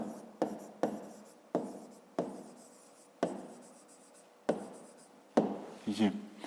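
Pen or pencil writing out a fifth-grade math exercise on paper, a series of about eight short scratching strokes with brief pauses between them, close and fairly quiet.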